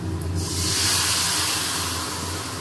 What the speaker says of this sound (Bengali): মশলা কষা হচ্ছে